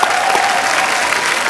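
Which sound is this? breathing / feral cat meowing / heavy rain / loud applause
loud applause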